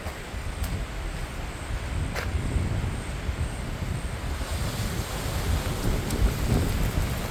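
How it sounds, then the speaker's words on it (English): Strong wind roars steadily outdoors among trees under a clear sky, a loud continuous rush with gusts buffeting the microphone and no talking. "That is a lot of wind over there."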